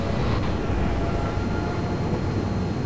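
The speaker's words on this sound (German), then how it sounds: "Da kommt schon der nächste Zug da hinten." A train approaches in the Train Fever video game, a dense, loud rumble that rolls on steadily with no pauses.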